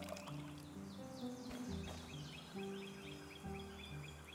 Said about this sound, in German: Ich gebe dir auch mal Wasser.